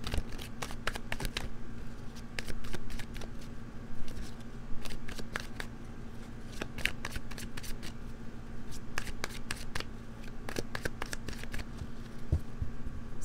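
A tarot card deck being shuffled, a long run of quick riffling card flutters in bursts, close and fairly steady, with a faint low hum beneath and no talking.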